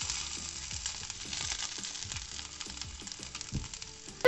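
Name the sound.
chicken roulade frying in oil in a pan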